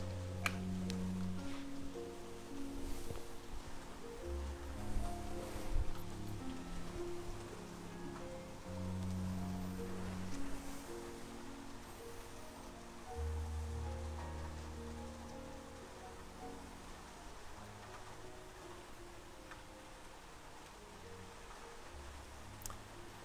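Rain falls outdoors as a faint, steady patter and hiss, with occasional ticks and drips, under low sustained humming tones throughout.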